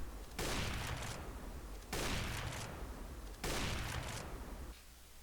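Three loud, broadband AWP sniper rifle shots from Counter-Strike: Global Offensive, each a sharp crack with a long echoing tail, evenly spaced about a second and a half apart with no talk.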